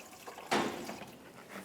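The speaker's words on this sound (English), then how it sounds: "And pour in some washer fluid." Washer fluid being poured into the reservoir of a 2011-2018 Ram 1500, a soft close liquid gush that starts abruptly and then keeps running as a quieter trickle, with no voices.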